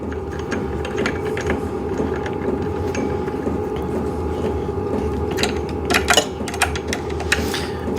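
Parts of a VEVOR cycling desk are tightened down, producing a steady, close mechanical whir with ratcheting clicks and a few sharper metallic ticks near the end.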